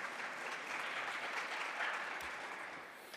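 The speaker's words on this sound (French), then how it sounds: "Vous pouvez l'applaudir." A medical conference plenary audience applauds in a steady, dense wash of clapping that holds for a few seconds, then begins to fade.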